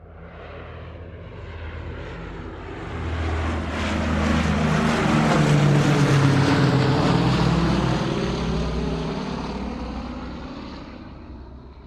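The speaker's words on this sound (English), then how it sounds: "Let's now get on the plane to Adelaide." An airplane flying past, a broad roaring engine drone that swells gradually to a loud peak midway and then slowly fades, continuous and uninterrupted with no voices.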